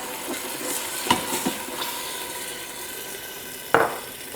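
Green chile sautéing in an Instant Pot while a utensil scrapes the pot bottom, a steady soft sizzle with a few scraping knocks and one sharper scrape near the end.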